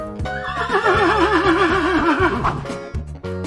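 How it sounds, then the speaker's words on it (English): A horse lets out a loud, close whinny with a quavering, shaky pitch lasting a few seconds, heard on its own without voices. "Horse."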